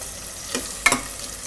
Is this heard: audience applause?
no